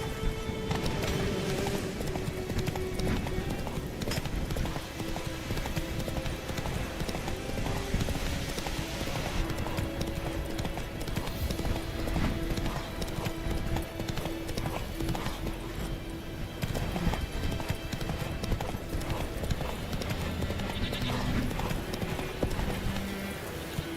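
Roach, Geralt's horse in the video game The Witcher 3: Wild Hunt, gallops with a fast, continuous drum of hoofbeats under dense game sound and music, loud and unbroken throughout.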